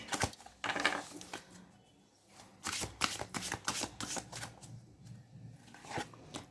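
Tarot cards are shuffled close by in several quick riffling bursts, with a few brief pauses between them and no talk over the sound.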